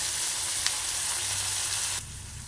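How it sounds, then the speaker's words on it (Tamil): Onions fry in hot oil with a steady, dense sizzle that holds close and loud, dropping abruptly quieter near the end. "வெங்காயம் வந்து நல்ல பொன்னிறமாக பொரிஞ்சு வந்துட்டு"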